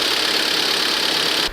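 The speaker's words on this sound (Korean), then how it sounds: "마지막에 들었던 YF 엔진 소리가 정상적인 소리입니다" A Hyundai YF Sonata engine idles steadily up close with a smooth, loud, even hum that cuts off abruptly at the end, no voices.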